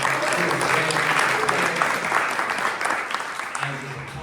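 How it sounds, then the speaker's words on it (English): An audience at a community business event gives a steady round of applause that fills the room and holds for several seconds, with a faint voice underneath. "Round of applause for Derek, ladies and gentlemen."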